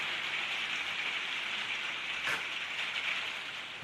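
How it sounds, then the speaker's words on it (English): Steady rain falls outdoors, a continuous soft hiss of drops on surfaces close by, with one brief louder patter midway and no voices. "we can't demonstrate because it's raining."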